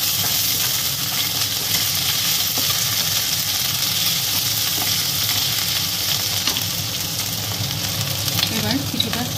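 Onion frying with grated ginger and green chilli for soybean pulao gives a steady loud sizzle, with occasional light stirring clinks and a few stronger knocks near the end.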